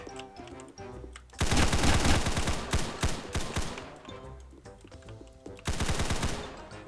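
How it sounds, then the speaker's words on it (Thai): Rapid bursts of automatic gunfire from a gun in the video game Roblox Hospital Tycoon, loud stuttering volleys in two long runs separated by a quieter stretch of game sound. "เราต้องใช้ปืนแล้วว่ะเฮ้ย"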